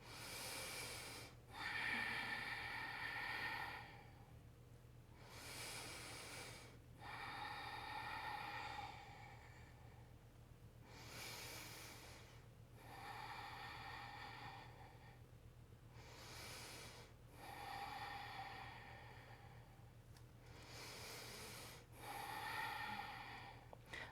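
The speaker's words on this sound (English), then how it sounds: "stay here for 5 deep inhales and exhales" Slow, deep breathing during a core-strength yoga hold, with about five long, hissing inhale-exhale cycles evenly spaced and close to the microphone over a low steady hum.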